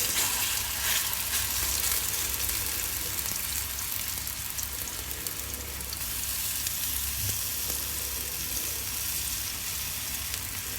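Bananas fry in ghee with a dense, continuous crackling sizzle that stays close and fairly loud throughout, with no voices.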